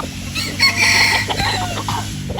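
A Possum Sweater gamefowl rooster crows up close on a farm, one drawn-out, harmonic call that rises and holds for about a second before tailing off, with faint clucking around it.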